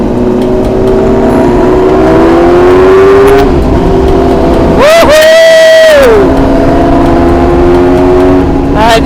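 A modified Yamaha R6 racing sport motorcycle engine, loud and close, holding a steady high rev with a sharp climbing rev burst in the middle, under a continuous droning background.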